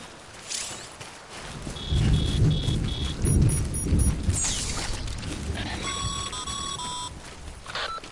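Timefall rain with rumbling thunder in Death Stranding, a steady wash of rain with low rolls building in the middle, overlaid by repeating electronic beeping tones from the game.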